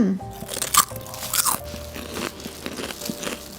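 Homemade fried potato chips are bitten and chewed close to the microphone, with loud dry crunches in short bursts followed by softer crackling chews, and no talking.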